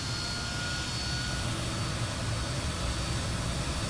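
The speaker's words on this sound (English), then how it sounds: "Now you hear the APU kick back on" Fokker F28 auxiliary power unit running up in Microsoft Flight Simulator, a faint, steady turbine rumble with a thin high whine held evenly throughout and no voices.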